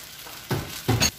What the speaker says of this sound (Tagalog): I-mix po natin mabuti guys